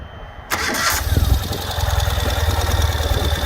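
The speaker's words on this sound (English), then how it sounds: "So I'm going to fire it up and let you hear this bike idling." A 2020 Ural Gear Up motorcycle with electronic fuel injection cranks and fires up, then settles into a loud, close, lumpy idle with an even pulsing beat.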